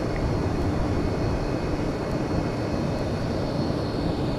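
Avro 730 Vigilant jet engines throttling down in Flight Simulator X, a steady loud broadband roar that holds without pause and without speech.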